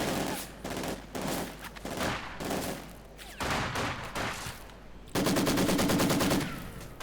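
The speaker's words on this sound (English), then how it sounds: "Machine gun." Machine gun fire in the Company of Heroes 2 war strategy game: several loud rattling bursts of rapid automatic shots in quick succession, with short gaps between them and a sustained final burst.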